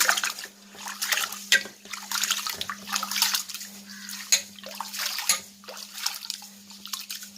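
Raw mavu pachcharisi rice is washed by hand in a pot of water, close sloshing and swishing with dripping and trickling, irregular bursts as the grains are stirred and rubbed, under a faint steady hum.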